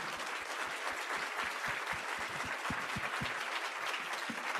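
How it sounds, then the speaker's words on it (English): Audience applause for a panel at a policy conference: steady, even clapping from a room of people, fairly distant and soft, with individual sharp claps standing out now and then and no speech over it. "let's please a round of applause for this amazing panel."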